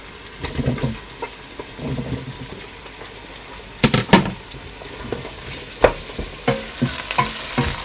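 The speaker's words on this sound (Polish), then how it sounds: "Patrzcie jak się ładnie smaży cebulka z kiełbasą." Chopped onion and sausage frying in a pot, giving a soft continuous sizzle broken by intermittent scraping and clinking as the food is stirred, close and fairly loud.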